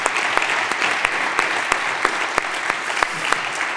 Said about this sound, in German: Erstmal einen Applaus.